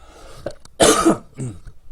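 A man coughs two or three times, close and loud, in short rough bursts with brief gaps between them.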